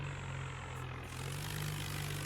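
A farm tractor engine running at low revs as it slowly pulls a trolley forward in an Indian village, a steady close diesel drone throughout with no talk.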